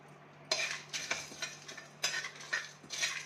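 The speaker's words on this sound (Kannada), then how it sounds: "ಸಣ್ಣ ಉರಿಯಲ್ಲಿ ಹುರ್ಕೊಳ್ಳಿ." Dry chillies, peppercorns, coriander seeds, cinnamon, cloves, fennel and cumin are dry roasted in a pan over a low flame. A spatula scrapes and stirs them in about six close, rhythmic strokes, with no talking.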